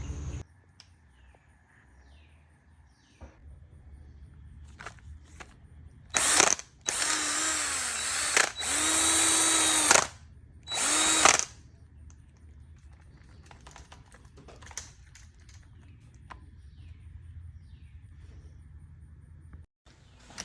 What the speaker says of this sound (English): Alright, so I got that hole drilled, but it still won't fit.